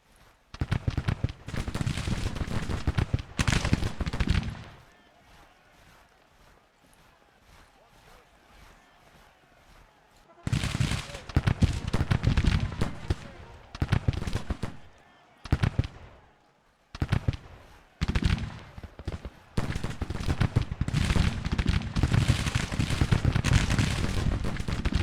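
Civil War guns in the strategy game Grand Tactician firing in long, dense rolling volleys of booming shots, loud and continuous, broken by a few quieter gaps before the barrage resumes.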